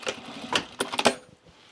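A sewing machine runs short bursts while bar tacking on trousers, a few quick close stitching buzzes clustered together, then falling quiet, without talk.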